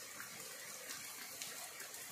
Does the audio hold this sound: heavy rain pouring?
yes